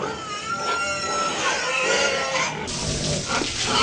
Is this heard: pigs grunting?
yes